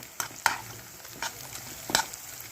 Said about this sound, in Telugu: ఇలా ఫ్రై చేసేస్తే అయిపోతుంది